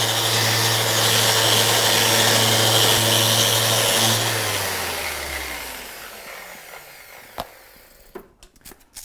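Power sander working the face of a cricket bat with 150 grit: a loud, steady whirring drone with a low motor hum that runs for about four seconds, then winds down and fades, leaving faint scattered taps and handling noises.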